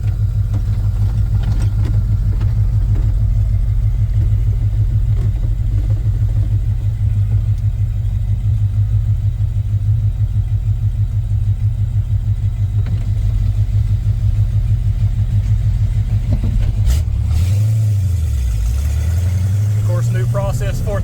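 A 1986 Ford F-150 with a 351 Windsor V8, glass pack mufflers, long tube headers and an X-pipe, idling with a deep steady rumble and an even pulsing beat, briefly revved near the end, with people talking over it.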